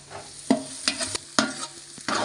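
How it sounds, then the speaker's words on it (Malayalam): Cashews, raisins and shallots fry in a pan for a Kerala tari kanji, a close crackling sizzle broken by several sharp spoon scrapes and stirs at irregular intervals. "അണ്ടിപ്പരിപ്പ് മുന്തിരിയും ചെറിയുള്ളി കിടന്ന് ഇങ്ങനെ മൂത്തിങ്ങനെ"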